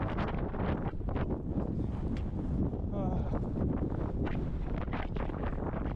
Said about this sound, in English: this is actually where I start to brace from the wind with my poles